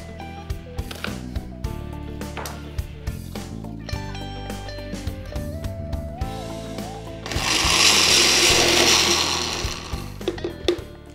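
A food mixer chops onion pieces in a loud, steady whirring burst lasting a few seconds, coming in after a stretch of background music and then cutting off.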